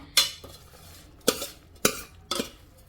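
Fried chana dal and other cooked ingredients being tipped into a mixer jar: four sharp clinks and scrapes of a metal utensil against the jar, close, each one short and followed by quiet.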